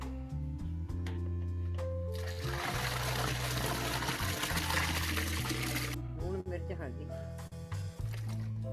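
Water poured over dal lentils being washed in a kitchen, a steady splashing pour that runs for a few seconds over a bed of low steady hum and background talk.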